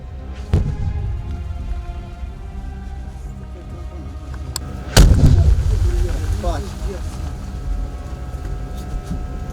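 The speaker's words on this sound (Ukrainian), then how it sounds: "Снаряди падають поряд з нашим бліндажем." Russian artillery shells landing near a dugout by Bakhmut: a sharp distant thud early on, then a much louder close blast with a rumbling tail over a noisy, crackling background.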